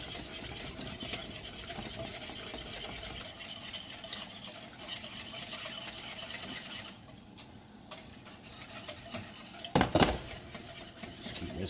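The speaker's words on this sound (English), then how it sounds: "Just keep whisking." A whisk scraping and rattling steadily through a creamy praline mixture in a pan, a continuous fast metallic stirring close up, briefly pausing and then resuming with a louder clank.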